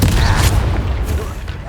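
A Confringo fire-spell blast in Hogwarts Legacy erupts as a loud, rumbling, explosive burst, with crackling fiery noise and further impacts filling the whole moment in the thick of a duel.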